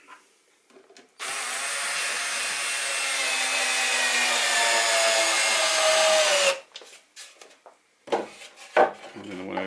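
Power drill driving screws into scrap wood during a toolbox and under-sink caddy build, one long steady whirring run of about five seconds with rising pitch, followed by short bursts and clunks of handling.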